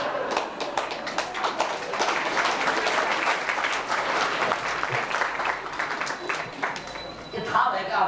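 Audience applause at a spiritual discourse by Dr Yogi Vikashnanda: dense, sustained clapping from a crowd that holds steady for about eight seconds and swells briefly near the end.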